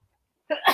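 Silence broken by a sudden close sneeze, a sharp burst of breath with a hissy release.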